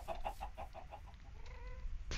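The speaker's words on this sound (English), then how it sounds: "Chicken's going back and forth" Minecraft chicken clucking in a video game, a quick run of about eight soft, evenly spaced clucks at first, then fainter bird sounds, all quiet and distant.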